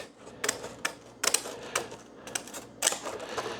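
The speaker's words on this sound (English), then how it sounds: "these are just good quality kitchen shears" Good quality kitchen shears snip a damaged portion off a piece of material at a beekeeper's workbench, giving a series of crisp, close cutting crunches in an uneven rhythm.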